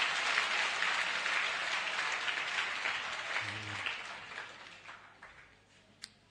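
A church congregation claps and cheers together, a sustained burst of applause that gradually thins and fades out, ending with a single sharp sound.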